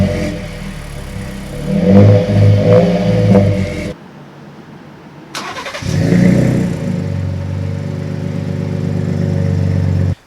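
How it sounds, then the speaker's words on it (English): Ford F150 with a 3.3L V6 and a FlowMaster 40 series muffler, its exhaust rumbling loud and close, cutting out for about two seconds, then returning as a steady deep idle until it stops abruptly. "FlowMaster 40 series muffler installed on the F150."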